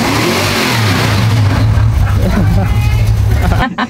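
A 1967 Dodge Dart engine cranks over and catches, then revs with a loud, rough mid-pitched roar and strong low rumble before cutting off near the end, with people talking over it.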